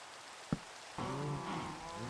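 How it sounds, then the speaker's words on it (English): Rain falls at night in Minecraft as a soft, continuous patter, broken by a sharp click and then a brief tonal in-game sound. "I enjoyed building it in the dark at night while it's raining"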